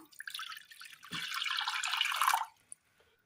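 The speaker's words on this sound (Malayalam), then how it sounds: "അടുപ്പത്തൊരു ചട്ടി വെച്ച് കൊടുത്ത് അതിലേക്ക് അല്പം വെള്ളം ഒഴിച്ചു കൊടുക്കാം" A short, close gush of water poured into a pan, lasting about a second and a half, then stopping with a light tap.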